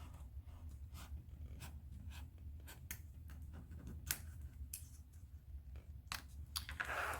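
A craft blade slices through paper in a series of short, separate scraping strokes, close and quiet, with small pauses between cuts.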